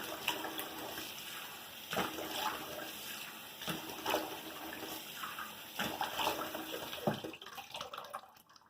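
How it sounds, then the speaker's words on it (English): Running water splashing as a face is rinsed, a close, soft stream broken by irregular splashes and cupped-water bursts, fading near the end. "And then you're going to rinse"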